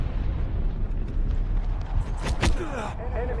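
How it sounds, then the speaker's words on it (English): Continuous rumbling artillery barrage in a video game, a dense low roar with a few sharper bursts near the end, loud and close. "Artillery barrage ready."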